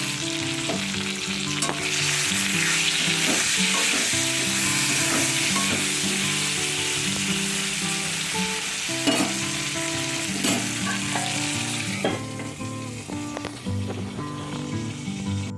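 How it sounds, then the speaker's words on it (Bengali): Pointed gourd hits hot oil in a kadai with salt and turmeric and fries in a loud, steady sizzle that runs the whole way, with faint tonal sounds underneath and no talking. "তেল গরম হয়ে গেছে পটলটা দিয়ে দিই নুন আর হলুদটা কড়ার মধ্যেই দিয়ে দেবো"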